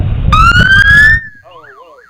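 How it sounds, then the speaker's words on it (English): A police siren sounds close and loud at a Christmas parade over rumbling engine noise, with a rising wail that cuts off abruptly and then gives way to a fainter warbling tone. "That's the police siren shotgun we just turned on."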